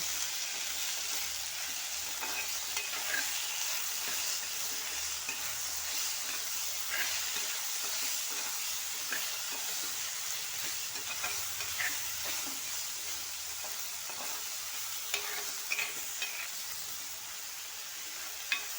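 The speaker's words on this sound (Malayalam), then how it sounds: "തക്കാളി ഇട്ട് ആവശ്യത്തിന് ഉപ്പിട്ട് നീണ്ട ഇളക്കി യോജിപ്പിക്കാം" Tomatoes and salt are stirred in a frying pan for an ivy gourd and soya curry, with a soft, continuous sizzle and occasional scrapes and taps of the spoon, close up and without talk.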